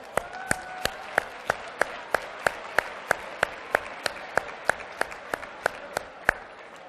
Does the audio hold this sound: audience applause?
yes